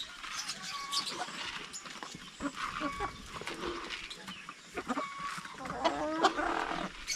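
Chickens cluck and squawk on a farm in a recently moved flock, a busy scatter of close and distant calls over quiet outdoor ambience, with no talk.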